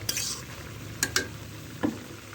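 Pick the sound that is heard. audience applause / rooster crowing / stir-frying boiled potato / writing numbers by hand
stir-frying boiled potato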